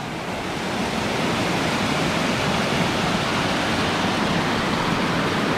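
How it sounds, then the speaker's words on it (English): A small creek or little waterfall in the Adirondack woods: a steady, even rush of running water, close and unbroken throughout, with no voices. "Definitely sounds like there's a little waterfall or a creek over here."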